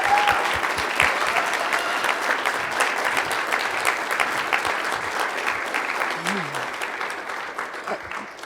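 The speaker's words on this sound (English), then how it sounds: "we want to give our future soldiers a big round of applause on behalf of Weslaco High School" A school audience applauds future soldiers at a high school military signing, steady dense clapping across the whole stretch with faint voices mixed in, tapering slightly toward the end.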